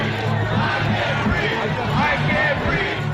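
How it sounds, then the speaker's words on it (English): A large crowd at the US Capitol on January 6 chants a Black Lives Matter slogan, a loud, dense and continuous mass of shouting voices with no pauses. "the crowd sarcastically chants a Black Lives Matter slogan"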